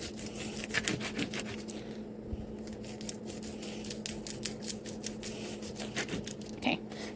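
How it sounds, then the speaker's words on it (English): Sausage sawn into small rounds with a serrated knife, a steady run of close, scratchy rasping strokes with short pauses and no talk over it. "Serrated knife, and I'm just gonna cut them into little dials to make it easier."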